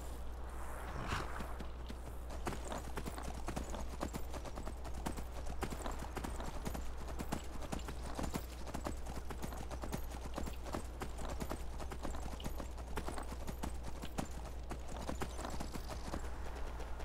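A horse gallops in Skyrim, its hooves striking in a quick, continuous clip-clop rhythm that stays fairly quiet and steady throughout.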